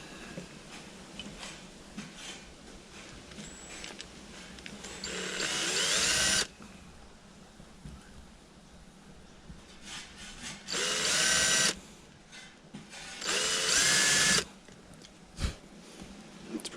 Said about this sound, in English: Drill the holes.